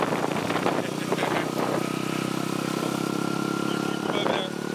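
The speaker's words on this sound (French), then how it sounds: "j'ai la chance d'être sur une petite motocross" A small motocross motorcycle riding along with a steady, droning engine hum, voices talking over it throughout.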